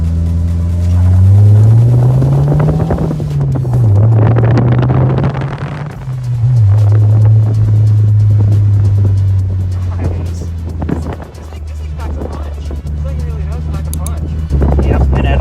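Engine note of a 1992 Toyota MR2 with a Camry-derived motor, heard from inside the car under acceleration; a loud, steady drone rises and falls in pitch with gear changes, with wind noise throughout.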